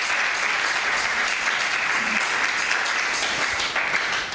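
A church congregation claps and cheers loudly. The applause is dense and steady, fills the room and holds for several seconds.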